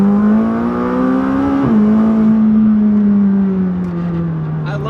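A McLaren 600LT sports car's engine and exhaust drone loudly from inside while driving, with a steady low tone that climbs, dips briefly at a shift, then eases down.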